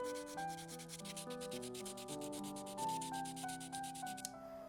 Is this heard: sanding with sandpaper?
yes